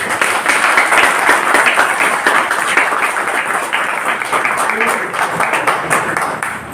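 An audience at a Vestige supplement seminar claps loudly and steadily, a dense wash of hand claps that runs continuously before easing slightly toward the end.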